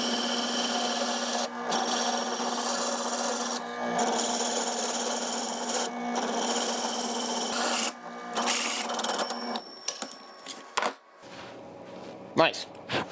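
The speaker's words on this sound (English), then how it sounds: "I've got this little indent here, and that's what I'm gonna be cutting with the hole saw." A hole saw in a drill press cuts through scrap wood with a steady, close grinding rasp and a constant motor hum for about nine seconds, then winds down, followed by a few light handling knocks.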